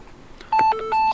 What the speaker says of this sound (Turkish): Çalıyor şu an.